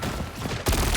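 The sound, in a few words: gunfire in the video game Marvel Rivals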